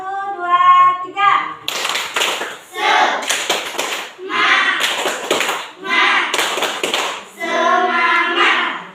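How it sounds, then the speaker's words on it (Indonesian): Schoolchildren in a classroom doing a rhythmic spirit clap, several bursts of quick unison clapping alternating with chanted voices, loud and close. "Kita tepuk semangat ya."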